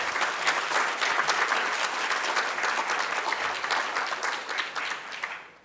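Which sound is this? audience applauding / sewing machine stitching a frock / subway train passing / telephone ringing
audience applauding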